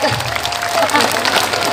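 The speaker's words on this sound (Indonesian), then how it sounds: "Kasih tepuk tangan dulu dong" Audience applause breaks out at an Indonesian religious lecture, steady clapping from a crowd filling the room, with a voice speaking over it.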